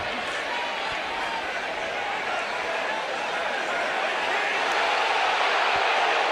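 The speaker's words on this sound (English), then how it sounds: "You hear the reaction from the crowd." College football stadium crowd in Miami versus Louisville, a sustained roar that swells slightly toward the end, with commentary voices over the dense noise.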